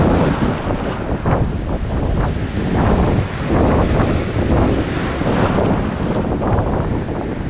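Strong wind roars and buffets over the crash and wash of ocean waves on a Philippine shore, loud and constant throughout with no voices.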